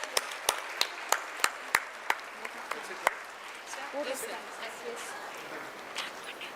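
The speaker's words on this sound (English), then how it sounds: "So one more big round of applause for all the winners." At an International Women's Day celebration at KSRCT, a run of about nine sharp, evenly spaced claps rings out near the microphone. The claps then fade into a low, scattered murmur of the gathering.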